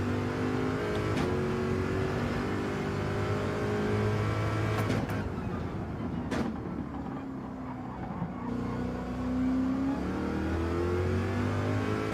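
A Corvette GR.3 race car in Gran Turismo on the Daytona road course, its engine revving and climbing through gears with a steady loud drone, pitch rising and dipping as it accelerates and shifts.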